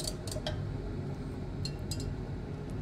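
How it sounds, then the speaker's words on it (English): Dilute nitric acid solution stirred in a glass beaker, with a few light, bright clinks of the stirrer against the glass over a quiet steady background. "Let me give this a stir. Get it mixed up real well."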